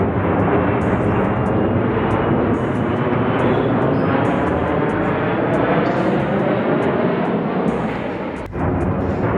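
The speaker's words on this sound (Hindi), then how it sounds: "अब हम अपनी एरोप्लेन को लेकर आगे चलते हैं" A toy airplane in a cartoon scene flies with a loud, steady engine drone that holds without a break, then dips briefly near the end before returning.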